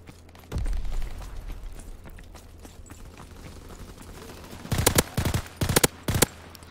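A Call of Duty gun fitted with extended magazines fires after a quiet stretch, first one sharp shot, then several loud, quick bursts close together near the end.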